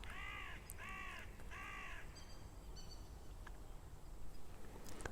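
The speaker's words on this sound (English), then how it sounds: "We are blessed to have all these beautiful birds here singing." A crow caws three times in a steady rhythm outdoors in Galilee, loud and fairly near, followed by a few fainter bird calls over quiet background hiss.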